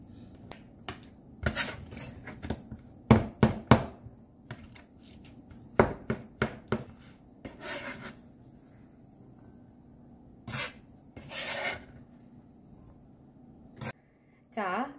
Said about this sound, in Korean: 우선은 이렇게 슬라이스를 하신 다음에 네, 칼등으로 이렇게 으깨주실 겁니다